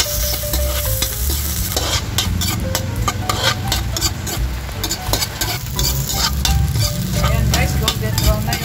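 Ginger sizzles and fries steadily in hot oil in a pan for a fish sinigang dish, a loud continuous crackle with scattered stirring and scraping clatter throughout.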